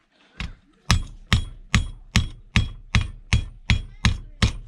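Hammer knocking parts off scrapped household gadgets such as sandwich toasters and routers: ten sharp, evenly spaced metallic blows, close and loud, after a softer first tap.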